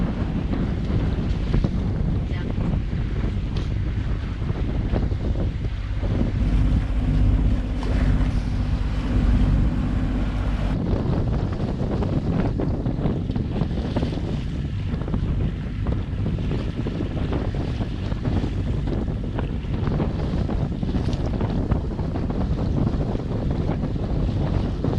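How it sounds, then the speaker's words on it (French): Steady 12-knot headwind roaring across the microphone on a sailboat at sea off Faro, with a constant rush of wind and water noise throughout and a low rumbling swell in the middle; no voices. "on a le vent à 12 nœuds face à nous"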